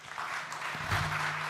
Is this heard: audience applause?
yes